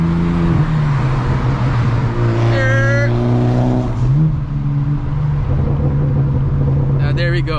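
A BMW M4 with an AWE track exhaust drives at night, its loud exhaust drone rising and falling through gear changes while people talk over it.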